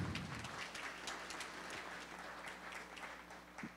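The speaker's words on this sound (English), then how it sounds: "let's give them a round of applause." Audience at a caregiving talk giving a round of applause, a faint, steady wash of many clapping hands heard from a distance with a low hum underneath.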